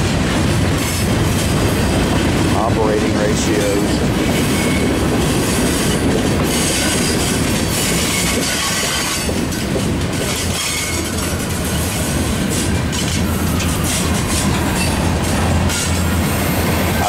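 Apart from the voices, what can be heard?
Norfolk Southern freight train with SD70ACe and SD70ACu locomotives passing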